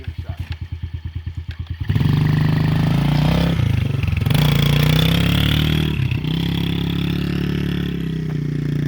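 A rental dirt bike putters at a steady idle, then its engine rises into a loud, sustained roar as the rider takes off, staying close with a few brief dips in pitch as it pulls away.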